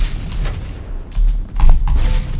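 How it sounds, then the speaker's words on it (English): Grenades go off in Halo: Combat Evolved multiplayer, a few heavy booming blasts with rumbling low end, loud and close, following one another within a couple of seconds. "Just gonna toss some grenades and see if they do anything."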